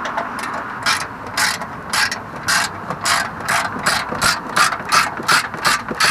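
A quarter-inch drive ratchet wrench clicks in quick repeated bursts, close and clear, with no talk over it, while a cold air intake is fitted to a 2012 Honda Accord V6 coupe.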